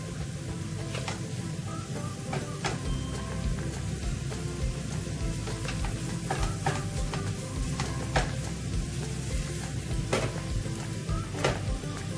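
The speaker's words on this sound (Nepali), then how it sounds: "हेर्नुस्, यसरी नै चलाउँदै जानुस्। समय समयमा चलाउनुस्।" Spicy Nepali-style bolognese meat sauce being stirred in a pan: a continuous low bubbling sizzle with frequent soft scrapes and light clicks of a spoon on the pan, steady and close throughout.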